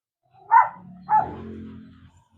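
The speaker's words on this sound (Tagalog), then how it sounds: "ito po yung ating stud na pitbull" Pitbull stud dogs, American Pitbull Terriers, give two close, loud barks about half a second apart, the second trailing into a lower growling rumble.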